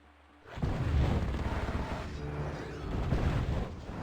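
The fire mace weapon in the video game Heretic fires in a loud, sustained barrage of booming, crackling shots that kicks in abruptly after a short quiet start and continues to the end.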